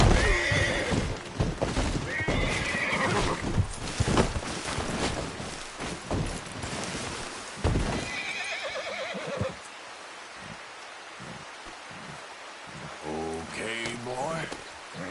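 A horse in the Red Dead video game whinnies and gallops, with loud neighs and rapid hoofbeats up close in the first half, then fainter hooves over rain-like patter and a later brief whinny.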